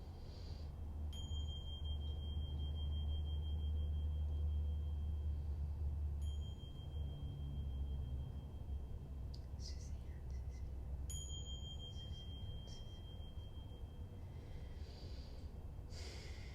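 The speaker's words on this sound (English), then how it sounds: "I'm going to do a little bell." A small bell is struck three times, each ring sustaining with a clear high tone and slowly fading, over a steady low background rumble.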